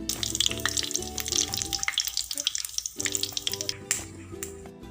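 Mustard seeds fry in hot coconut oil in a pan, giving a busy, crackling sizzle that runs throughout under steady tonal background sounds, easing briefly near the middle before picking up again.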